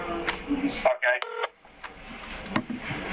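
A touch-tone phone keypad is dialed on a second phone because a landline is failing, giving a quick burst of several short beeping tones. Background noise and talk surround the dialing.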